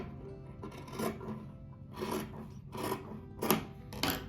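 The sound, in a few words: cutting off a piece of patchwork fabric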